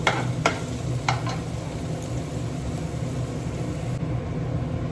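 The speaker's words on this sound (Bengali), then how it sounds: "পেঁয়াজটা দিয়ে একটু নাড়াচাড়া করে নিচ্ছি" Chopped onion fries in a pan on a low flame with a continuous sizzle, while a utensil scrapes and stirs it in a few quick strokes near the start; no voices.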